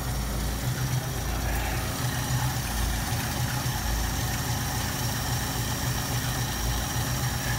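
Steady, close idle of a 1973 Ford Mustang convertible with a 302 two-barrel V8, a low pulsing rumble that rises slightly and then settles back as the idle speed is adjusted.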